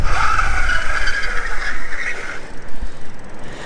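Velotric Summit 1 e-bike braking hard after a fast run, a loud sustained tire skid and scrape over steady rolling and wind noise that fades out near the end.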